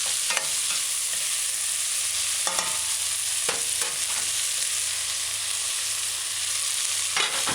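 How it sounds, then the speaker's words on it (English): A spoon stirs thyme, pimento berries and spices into bone-in chicken chop suey in a pot, with a continuous steady sizzle and several sharp scrapes and clinks against the pan. "Stir it in a few times."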